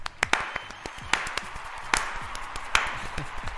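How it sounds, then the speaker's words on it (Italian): A small group applauds for Vittorio, a few scattered, sharp hand claps ringing out irregularly rather than as a full ovation. "facciamo un applauso a Vittorio"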